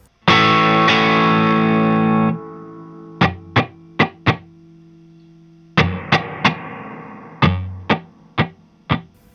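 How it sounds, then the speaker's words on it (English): Electric guitar through a spring reverb pedal: a long sustained chord rings with reverb, then clipped staccato strums follow in bursts, each leaving a short splashy spring tail that decays away cleanly, close and loud with no talking. "if you turn the pedal off, your reverb just sort of fades out in a very natural way"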